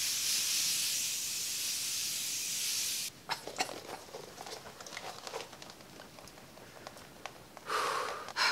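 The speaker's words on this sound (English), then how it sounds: "To set all this, I'm gonna use the Morphe Continuous Setting Spray." Morphe Continuous Setting Spray mists out in a long, steady hiss for about three seconds. Quieter rustling and small clicks follow, then one more short burst of spray at the end.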